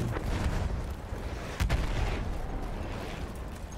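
A single deep explosion in the video game Battlefield 1 booms through a steady rumble of distant battle noise, with one sharp blast standing out midway.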